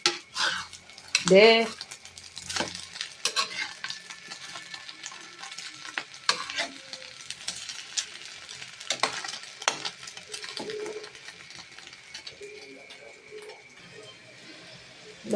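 Egg omelette (tortang itlog) frying in a pan, with a steady faint sizzle under repeated scraping and clinking of a utensil against the pan, a few louder knocks near the start.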